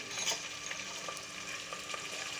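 Salt frying in a pan while chicken biryani is cooked, a steady soft sizzle with faint stirring scrapes and light clicks throughout, fairly quiet and without talk.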